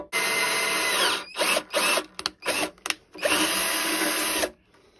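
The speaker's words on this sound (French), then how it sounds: "Et je m'avais déjà cherché le petit Dremel pour faire le perçage du carter." A small Dremel drills into the oil pan of a turbocharged BMW E36, giving a loud high-pitched whine in several bursts of varying length with short pauses between them, close up and with no talk.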